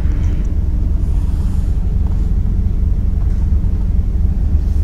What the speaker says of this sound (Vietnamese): Các bạn nghe thấy tiếng động cơ nó có êm không ạ?